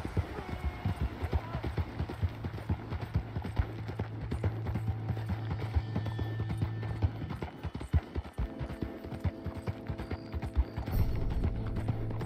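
Steady horse hooves clip-clopping at a walking pace in the video game Red Dead Redemption 2, with a faint snort or whinny and some muffled talk underneath.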